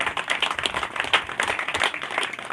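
An audience at a Congress political rally in Sikar, Rajasthan claps in a dense, steady patter of many hands, moderately loud and close throughout.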